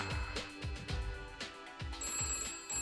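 A telephone bell rings in repeated bursts, loud and close, with a steady electronic tone running underneath.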